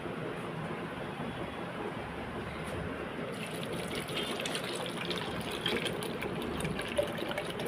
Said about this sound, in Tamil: இந்த 1/2 லிட்டர் தண்ணியை நான் இதில் ஊற்றிடுறேன்.